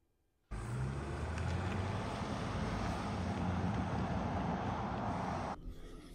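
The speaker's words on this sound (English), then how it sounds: "Right, so driving the Range Rover Sport." Range Rover Sport cabin on the road, a steady broadband rumble of tyre and engine noise that starts abruptly and holds evenly for about five seconds before cutting off.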